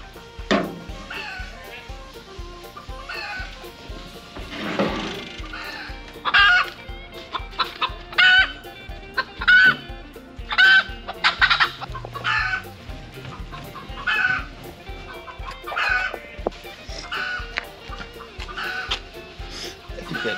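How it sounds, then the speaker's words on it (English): Loose chickens cluck and squawk close by in repeated excited bursts, with one bird raising an agitated fuss. A person talks intermittently in the background. "Great, now the chickens are out too."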